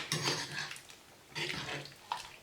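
Seasoned rice is stirred in a small pot on a stovetop, two bursts of scraping and clattering spoon against metal with a brief wet clink, close and moderately loud.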